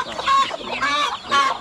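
Chickens in a farm coop cluck in three loud, close bursts, each a cluster of nasal calls with short pauses between.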